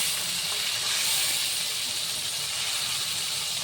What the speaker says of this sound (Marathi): त्याला आपण आता सोडू आपला हिरवा मसाला तेलामध्ये